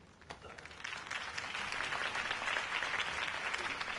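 A crowd applauds after a campaign speech in a Batman video game, with steady clapping that swells in the first second and then holds a dense, even level to the end.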